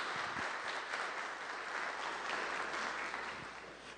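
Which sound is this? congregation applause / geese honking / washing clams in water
congregation applause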